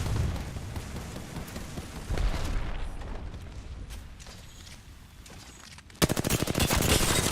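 Dense automatic gunfire in the Apex Legends battle royale shooter, with rapid bursts and booms layered over busy game noise, growing louder and more relentless near the end.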